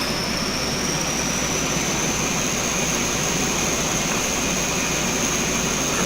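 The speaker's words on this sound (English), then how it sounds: "APU starter. It's spooling up." An auxiliary power unit on a Dash-8 turboprop airliner in Flybe livery spins up, giving a steady loud turbine whine with a rising high tone over continuous broadband roar, heard from the cockpit without speech.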